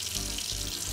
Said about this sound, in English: the water comes out this way